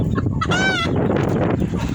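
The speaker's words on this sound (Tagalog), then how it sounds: "Ay, manok." A chicken gives a drawn-out squawking cluck amid steady background noise and rustling, close and fairly loud.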